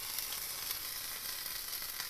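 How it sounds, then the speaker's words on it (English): Mac and cheese grilled cheese sandwich sizzling in a pan, a soft, even hiss of frying with faint crackles, heard up close and alone. "listen to all that sizzling"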